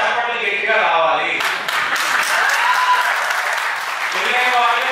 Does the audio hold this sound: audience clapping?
yes